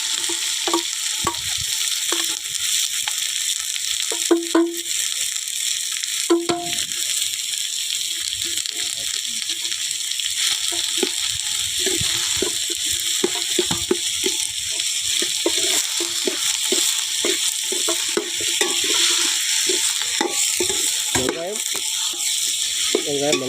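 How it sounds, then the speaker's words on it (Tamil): Onions frying in hot coconut oil for a prawn fish curry, an ongoing crackle and sizzle with frequent clacks and scrapes of a spoon stirring the pan, near and loud, with no one talking. "திளச்ச எண்ணெயிலேக்கு நம்ம வெங்காயத்தை போடலாம்"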